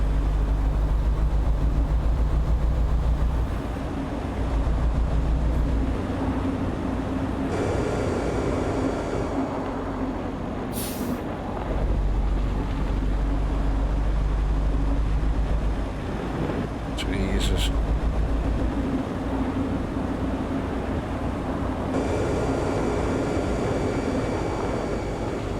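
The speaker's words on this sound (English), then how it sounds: "That's using the foot brake." Heavy truck rumbling under the cab as it slows on the foot brake with its air brakes, a steady low drone with shifting engine tones and brief higher hisses, while a driver talks over it.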